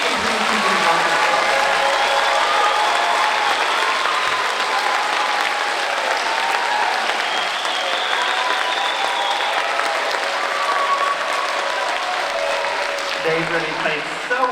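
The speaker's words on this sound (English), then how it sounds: "please give your biggest, loudest, scariest applause for these wonderful people here, the Adrian Symphony Orchestra" A concert audience gives the Adrian Symphony Orchestra loud, sustained applause with crowd noise, steady and dense for the full span and easing only slightly near the end.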